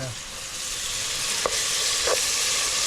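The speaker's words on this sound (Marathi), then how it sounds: "याच्यामध्ये थोडं टोमॅटो याच्यामध्ये ॲड करायचं आणि थोडा हो पत्ता हां कढीपत्ता हां हां हां फ्राय" Tomato and curry leaves frying in a pan, a steady close sizzle with a couple of soft stirring taps partway through.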